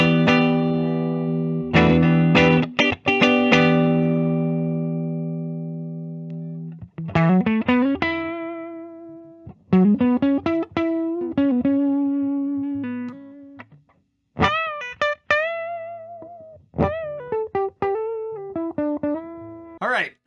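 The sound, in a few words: 1991 Gibson Firebird V electric guitar, clean tone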